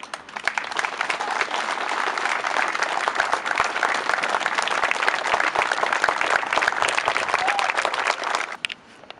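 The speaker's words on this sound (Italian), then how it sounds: "un grande applauso." A crowd applauds at a 25 April monument inauguration ceremony honouring former internees in San Giorgio in Salici, Italy, producing long, sustained clapping for around eight seconds that fades near the end.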